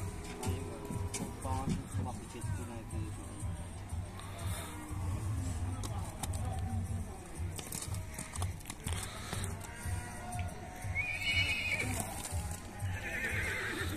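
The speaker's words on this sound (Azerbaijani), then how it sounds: "Görən yaxşı at var bazarda." Horses neigh and whinny at a horse bazaar in Ganja, with hooves clip-clopping and a babble of people talking around them through the whole stretch.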